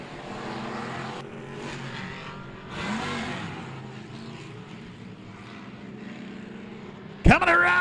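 Dirt-track race cars roaring off at the start of a POWRi memorial race, a dense engine drone swelling and sustained near and loud, with a sharp burst near the end.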